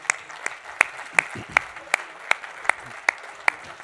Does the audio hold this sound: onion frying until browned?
no